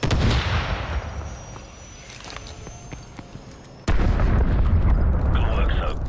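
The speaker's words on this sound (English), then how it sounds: "Bloody nice shooting this, Soap." Gunfire and explosions from the Call of Duty 4 video game sound in bursts and booms with dense battle noise, close and loud, alongside in-game voices.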